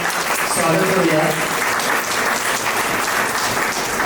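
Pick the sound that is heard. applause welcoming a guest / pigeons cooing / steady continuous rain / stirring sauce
applause welcoming a guest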